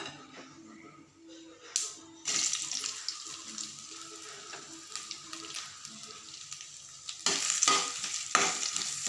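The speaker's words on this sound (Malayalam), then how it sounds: "തേങ്ങ വറക്കാം" Grated coconut fries in hot oil in a home kitchen while a mushroom curry is made, giving a steady sizzle with stirring and scraping; after a short quiet moment the hiss surges louder and stays strong, rising again near the end.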